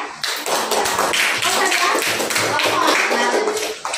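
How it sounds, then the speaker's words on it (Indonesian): A classroom of children applauds for a classmate named Maria, a dense burst of many hands clapping close by for about four seconds, with voices mixed in. "Aplaus dulu ya Maria."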